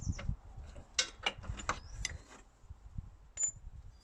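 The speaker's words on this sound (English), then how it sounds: "slide that bolt out." A bolt worked out of a car's front suspension during a strip-down for fitting polyurethane bushes: a run of close metallic clicks, knocks and scrapes, with sharper clanks near the start and a final clink, no talking.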